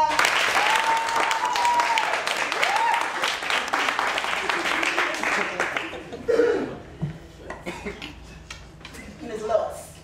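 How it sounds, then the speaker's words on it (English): An audience claps their hands at a spoken-word performance, with loud, dense applause for about six seconds that then thins into scattered claps, coughs and murmuring. "Clap your hands."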